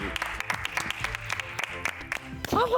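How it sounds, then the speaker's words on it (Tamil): A small group claps for young contestants at a junior chef cooking competition, a quick, dense patter of hands lasting a few seconds before a voice cuts in at the end. "ஓகே, எல்லாருக்கும் கைத்தட்டு கொடுப்போம்."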